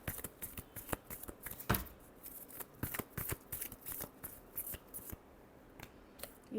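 A deck of tarot cards is shuffled by hand, close up. Rapid, uneven riffles and soft slaps of card against card continue steadily with no voices.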